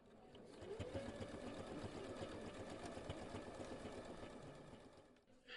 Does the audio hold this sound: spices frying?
no